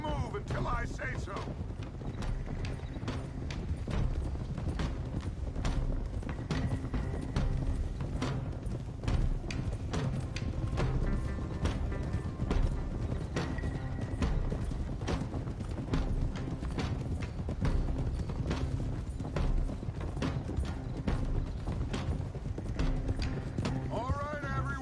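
Horses' hooves clip-clopping at a steady gallop in the Red Dead Redemption 2 video game, a continuous rhythmic patter of close, moderately loud hoofbeats, with a brief whinny and spoken dialogue over the riding.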